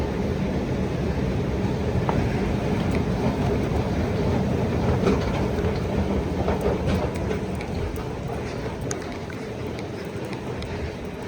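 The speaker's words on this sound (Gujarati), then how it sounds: "એટલે અંડરગ્રાઉન્ડમાં લંડનમાં ટ્રેન ચાલે છે" A London Underground train runs steadily and loudly through a tube station, its dense rumbling roar and rail clatter holding constant, with faint clicks and squeals above, easing slightly toward the end.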